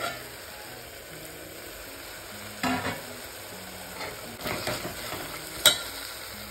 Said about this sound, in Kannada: ಇಲ್ಲಿ ಟೊಮ್ಯಾಟೊ ಕೂಡ ಬೇಯ್ತಾ ಇದೆ